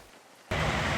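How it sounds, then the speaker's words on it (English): Rain at a Welsh theme park comes in abruptly as a dense, loud hiss that starts halfway through and then stays steady, with no voices. "it's not a day in Wales without the rain"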